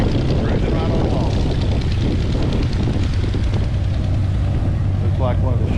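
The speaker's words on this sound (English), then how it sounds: "Looks like one of the show planes there taxiing out, as well as this one." A show plane taxies out at an airfield where other small aircraft are also departing, giving a steady, loud propeller-engine drone that fills the whole stretch, with people talking over it.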